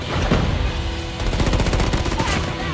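Rapid bursts of video game gunfire crackle in dense, uneven volleys, automatic fire layered with single shots for nearly three seconds, loud and busy with no voices.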